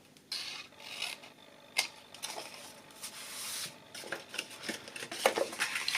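Scissors snip and rasp through paper pieces for a small Easter bag, with irregular close cuts and rustling handling of the paper, no talking.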